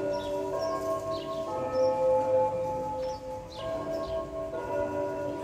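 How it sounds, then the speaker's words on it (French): Church bells ring steadily along the Camino Francés between Burgos and Rabe de Calzadas, their resonant tones sustained and layered, with faint bird chirps scattered above. "Bizarre hein, ces cloches."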